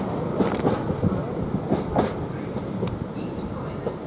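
An intermodal container freight train bound for London Gateway rolls through Peterborough station, a steady continuous rumble of wagons with faint clattering wheels, fairly close and loud, with no talk.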